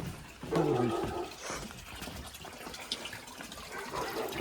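Water from a spring runs and gurgles steadily nearby, a continuous splashing flow with no talking.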